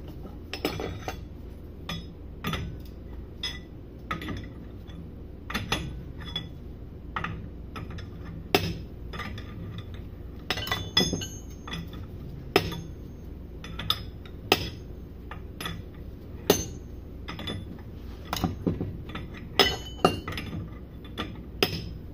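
Sharp metallic clinks and taps ring out irregularly, like hammering on metal parts while replacing a grinding shaft guide, scattered over a quiet background with no talking.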